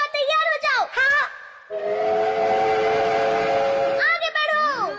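A cartoon train in a Doraemon adventure, a loud whistle blast sustained over a chugging rumble, framed by short sliding animated sound effects at the start and end.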